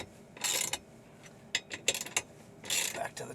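Bolts are tightened on a metal console table bracket in short ratcheting bursts, a few quick clicking runs separated by pauses, close and fairly clear with no talk.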